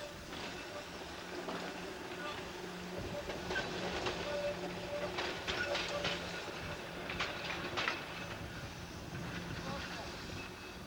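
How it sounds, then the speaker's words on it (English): A train rumbles past with rhythmic clacking of wheels on rails, steady and fairly close, with faint background noise. "watch the trains go by"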